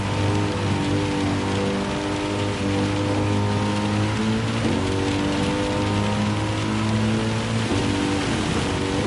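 Heavy rain falls during a Gran Turismo 7 manufacturer race, a steady hiss of rain mixed with the constant drone of a car engine, with no talk.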